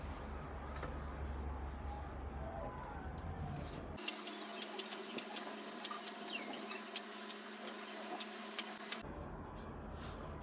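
A knitting machine carriage runs back and forth knitting rows for a scalloped hem, giving a steady mechanical whir with light ticking and clicking throughout and a low hum that drops out partway.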